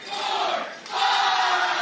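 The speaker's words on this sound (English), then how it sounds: "Listen to the crowd." A pickleball crowd chants at a match featuring the Utah Black Diamonds, in two loud sustained rhythmic swells of massed voices with a brief dip between them.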